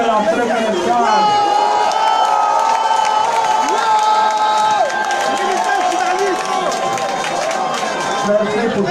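A crowd welcoming the former first lady of Côte d'Ivoire, Simone Gbagbo, after her release from prison cheers and applauds loudly and without letup, with shouts and chatter woven into the noise.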